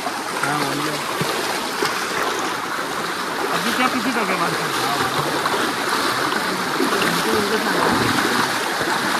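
Rushing stream water flows steadily and loudly throughout, a constant broad wash with splashing, and voices can be heard talking over it.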